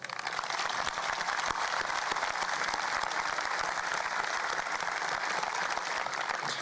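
Graduation ceremony audience applauds steadily, dense even clapping from a large crowd that holds without break for several seconds.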